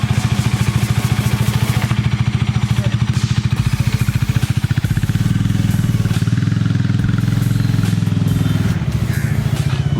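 A 2019 Bajaj Dominar 400 motorcycle engine idles and revs close by at a godown delivery, a loud rapid thumping exhaust pulse that rises and deepens partway through, with faint voices in the background.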